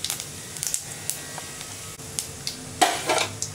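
Mustard seeds spluttering in hot oil while cooking a beans curry, a quiet steady sizzle broken by scattered sharp pops and crackles, close up and with no talk.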